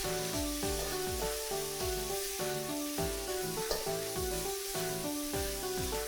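Mackerel stir-fried with fish sauce and sugar sizzles and hisses steadily in the pan, close and continuous, with a faint rhythmic scraping pulse and no talking.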